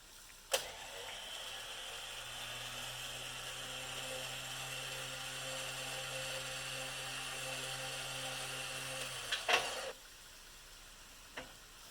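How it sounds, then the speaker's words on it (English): An Apex 12K winch on a Jeep JT Gladiator spools line onto its drum with a steady electric motor whine for about nine seconds, framed by a sharp click at the start and a clunk as it stops. "For the last 10 feet of winch line, you're going to walk it in with no tension on it."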